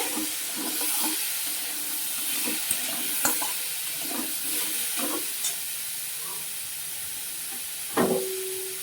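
Turmeric is stirred into food frying in a pan, giving a continuous sizzle with repeated scraping stirs and a few sharp utensil knocks against the pan.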